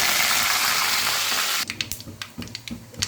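Curry leaves drop into hot oil already holding mustard seeds and urad dal for a chutney tempering, bursting into a loud, dense sizzle that abruptly gives way to scattered sharp crackles and pops.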